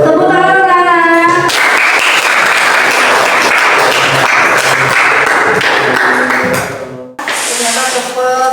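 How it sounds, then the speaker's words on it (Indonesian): Children applaud in a classroom during a lesson: a dense, even burst of clapping lasting about six seconds, following a brief voice and cutting off sharply before a short noisy tail. "Tepuk tangan anak-anak"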